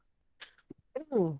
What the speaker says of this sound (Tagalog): Lagi ubo ko.